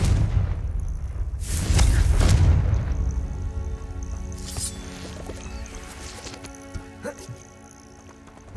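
Confringo fire spell going off in Hogwarts Legacy, a loud booming blast near the start that fades into a rumbling tail with scattered clinks and small impacts afterward, no talking.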